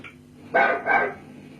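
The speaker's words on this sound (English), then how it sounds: "The barking here is quite extraordinary" Two quick, loud barks from a dog on an old interview recording, slightly muffled and hollow.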